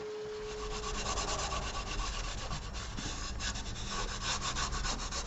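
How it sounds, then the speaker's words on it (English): Steady, continuous sanding of wood on a spinning lathe, a dense abrasive rasping that stays loud and even throughout, with no voices. "Sanding time!"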